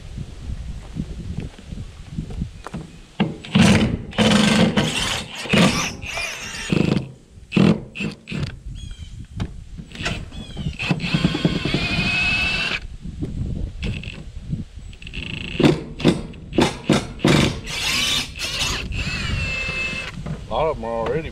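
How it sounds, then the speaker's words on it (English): Screws are worked out of old boards on an equipment or utility trailer, giving intermittent mechanical whirring and grinding bursts with scraping in between, close by, while a person talks over the work. "Let's see about getting the rest of these screws out of all these boards."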